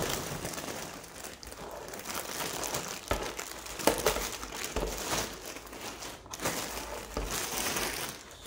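Packaging bag crinkling and rustling close up during a speaker unboxing, a continuous dense crackle with a few sharper crunches and no talk.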